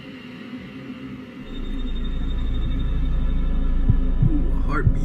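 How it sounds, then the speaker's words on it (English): A low droning hum swells and holds while a few deep heartbeat thuds pulse faintly underneath, growing slightly more distinct toward the end. "heartbeat"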